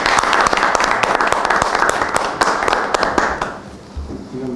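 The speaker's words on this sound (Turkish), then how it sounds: "Bir alkış." A room full of people applauds, the dense clapping close and steady for about three seconds before it thins and fades, with a little low background noise at the end.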